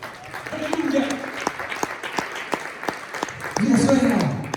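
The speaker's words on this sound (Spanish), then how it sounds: "Dale palmas a la palabra" A church congregation claps in a steady rhythmic beat, the sharp claps running throughout with voices sounding over them and swelling louder near the end.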